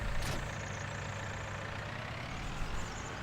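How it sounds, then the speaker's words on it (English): A tractor engine idles in a farming video game, a steady low rumble with a broad mechanical hum that holds evenly throughout, with no talk over it. "We'll just bring the tractor back"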